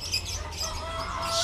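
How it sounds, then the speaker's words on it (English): Chickens and roosters at a Bali animal market cluck amid a busy, noisy crowd of market sounds, the bird calls fairly close but partly blended into the steady background. "A rooster. They got rooster."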